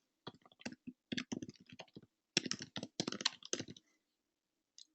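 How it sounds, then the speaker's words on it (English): Bursts of keyboard typing on a computer, quick irregular key clicks in clusters with short pauses, fairly close and clear with no talking. "I'll type it also in the chat."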